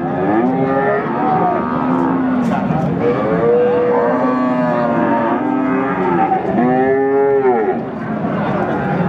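Several cattle mooing loudly and repeatedly at a livestock market in Pati, Indonesia, long drawn-out lowing calls overlapping one another close by, with steady crowd and engine noise underneath.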